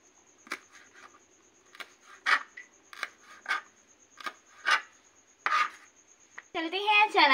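Green chilies being chopped with a knife on a board: a run of about a dozen crisp, close knocks in an uneven rhythm, followed by a brief burst of louder clattering at the end, with no talking.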